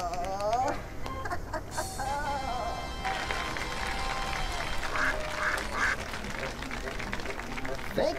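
A duck quacking in a circus act, with repeated quacks near the start and then a dense, busy background that sounds like applause or crowd noise. Voices are also heard.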